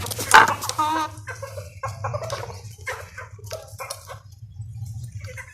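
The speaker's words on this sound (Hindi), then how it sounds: "ये देख लो आपके सामने खा रही हैं मुर्गियाँ।" Hens at their feed cluck and squawk close by, with one loud call at the start and then scattered softer clucks and pecking noises over a low hum.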